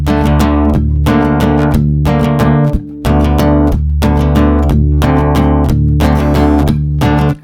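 A guitar in DADGAD tuning plays ringing strummed chords up close, in a steady rhythm of about seven evenly spaced strums with a brief gap near the middle.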